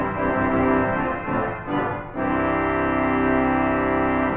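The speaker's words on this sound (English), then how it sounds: "And it's also got the swell sub-octave." Swell sub-octave coupler on the Llangyfelach Church pipe organ, a dense, bass-heavy held chord that shifts briefly midway and then settles into a steady loud sustain, heard alone.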